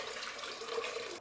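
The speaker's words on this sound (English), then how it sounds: "You're going to start by adding your water into your bowl." Water poured into a mixing bowl for bread dough, a soft, steady trickle and splash lasting about a second with no talk over it.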